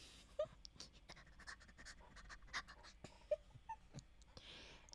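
Rapid panting breaths from a person doing a diaphragm breathing exercise, repeated quick huffs at an even pace, close and fairly quiet, with no speech over them.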